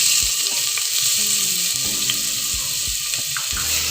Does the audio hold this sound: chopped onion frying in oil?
yes